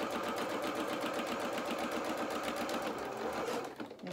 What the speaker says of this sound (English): Reverse stitch at the end.